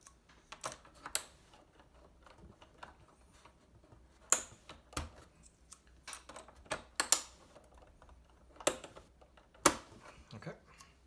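Replacement PBT keycaps snap onto the switches of a Kinesis Advantage 2 keyboard, a run of sharp close clicks and plastic taps scattered irregularly, with several louder snaps standing out among softer ticks.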